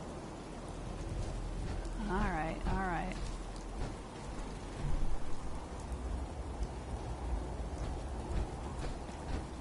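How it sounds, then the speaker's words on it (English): Steady soft rain falls in the Fallout 4 game world, a continuous wash of drops throughout, with a few brief voiced calls and spoken lines over it. "You're just sitting out here in the rain."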